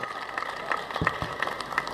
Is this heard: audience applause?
yes